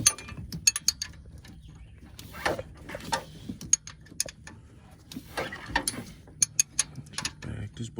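A hand ratchet clicks in short, uneven bursts of sharp pawl ticks as it backs a bolt out on a mechanical fuel pump of a small-block Chevy engine, close and fairly quiet, with some speech mixed in.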